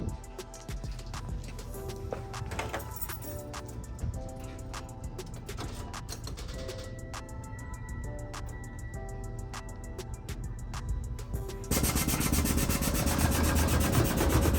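An overly wide car wheel with a lot of poke, its tire rubbing against the fender as it turns, giving a steady scraping rub with a rapid ticking rhythm that grows harsher and louder near the end.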